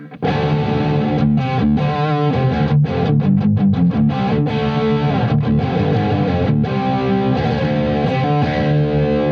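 Electric guitar played through a Blackstar St. James 100 tube amp on an overdriven channel with reverb, giving thick distorted chords and choppy muted strums at steady high volume with no talking.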